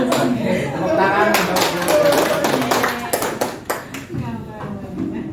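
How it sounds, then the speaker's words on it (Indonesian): A group of people clapping their hands together in a school training session, with uneven bursts of claps and taps mixed with voices and light laughter, fading toward the end. "Tepuk tangan."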